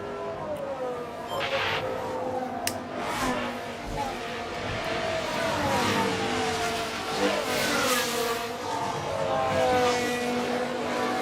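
Formula 1 race cars in the video game F1 Manager 24 at the Austria circuit, engines whining and sweeping through gears continuously, with several pitch glides as cars pass, steady and fairly loud throughout with no talk.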